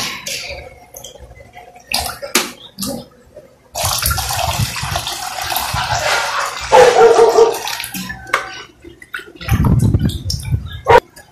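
Warm water pours and splashes into a foot spa basin in loud, uneven bursts, with quieter handling noises and brief clatters between pours and one short sharp sound near the end.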